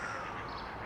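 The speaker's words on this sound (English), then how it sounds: "And the jackdaws." Jackdaws calling outdoors among other birds such as coots, short harsh caws rising briefly over a steady background hiss, moderately distant and alone without talk.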